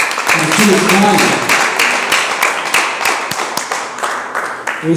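A church congregation claps in praise of God, with rhythmic, close hand claps falling in a steady beat as voices sing and call out over them.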